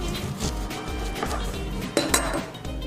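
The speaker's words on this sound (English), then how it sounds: "Okay, so cut it in half." A knife cuts a lime in half on a board for chipotle shrimp wraps. Several close knocks and clinks of the blade against the board come in an uneven rhythm, with a sharper, louder chop near the end.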